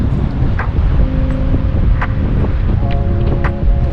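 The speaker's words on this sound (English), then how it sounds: "A little windy out here right now" Wind blows across French Beach on Vancouver Island, buffeting the microphone with a steady low rumble and gusty roar. Faint tonal hums drift underneath the noise.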